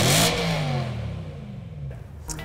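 A BMW E92 M3 with a Gintani tune revs hard, its loud raspy engine note sweeping up in pitch and then easing off, close and without any talk.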